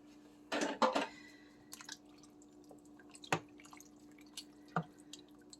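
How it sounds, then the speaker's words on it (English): Rinsed kidney beans are tipped into a pot of chili, giving a wet plop and splatter followed by a few scattered drips and soft knocks against the pot in an otherwise quiet kitchen. "So now we're just going to add the kidney beans in."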